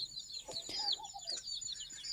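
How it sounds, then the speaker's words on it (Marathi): Country chickens cluck softly while desi chicks peep in high, rapid chirps, close by and fairly quiet, with no talking. "प्युअर गावठी पिल्ले आहेत हे गावरान कोंबडीचे"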